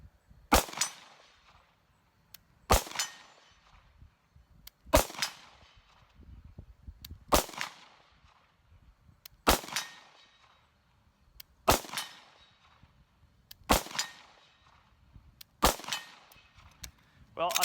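H&K VP9 handgun shots at 50 yards crack out sharply one at a time, about eight evenly spaced reports roughly two seconds apart, each followed by a short decaying ring over a quiet background.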